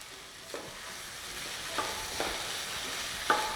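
Peas being stirred in a pot for Saint Germain soup, making a steady low sizzle with a few soft scraping strokes of the spoon, close and quiet, with no talk.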